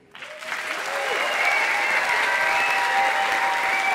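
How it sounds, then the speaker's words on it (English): Applause from an audience after a science slam talk swells quickly from silence into a full, steady ovation, with faint cheers and whistles over the clapping. "Yes, Veenvliet, your applause, dein Applaus."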